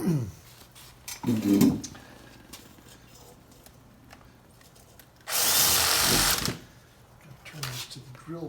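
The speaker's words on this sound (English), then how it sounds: "Got the drill set on first gear." A power drill set on first gear runs in a steady, loud whir for about a second during work on a vintage Husqvarna chainsaw, with scattered handling noises and bumps before and after.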